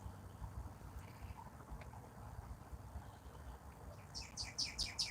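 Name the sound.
songbird chirping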